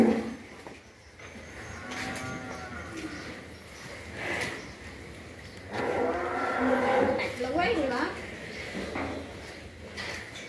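Cattle moo at a Long An breeding farm in the evening, several drawn-out calls of varying pitch rising over a steady farmyard background, with a few clunks and snorts.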